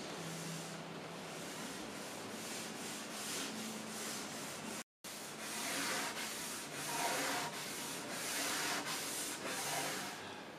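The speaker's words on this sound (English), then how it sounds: "The grain raises up, so we need to rub that back with steel wool." Steel wool rubs back oiled macrocarpa timber in steady, rhythmic back-and-forth strokes, close and scratchy, with a brief silent gap midway and no talking.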